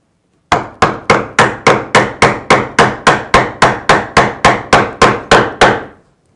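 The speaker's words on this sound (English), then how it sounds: "I can use my mallet and the chisel to chop down into the mortise." A wooden mallet drives a mortise chisel down into wood, about eighteen sharp, evenly spaced knocks in a steady rhythm, close and loud with no talking.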